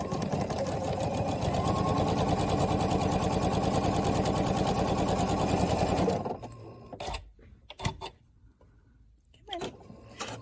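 Sewing machine stitching a half square triangle quilt unit, a loud rapid mechanical chatter running steadily for about six seconds, then stopping, followed by quieter handling noises and scattered clicks.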